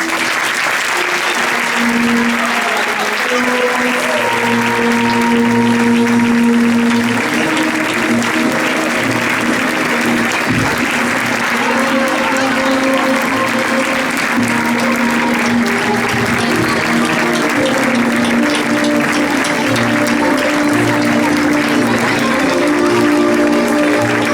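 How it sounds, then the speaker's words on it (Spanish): Crowd at a Valencian Fallas proclamation gives strong, steady applause for the child fallera major of 2020, with loud continuous clapping and a sustained musical tone running underneath. "Rebem un fort aplaudiment a la nostra fallera major infantil 2020"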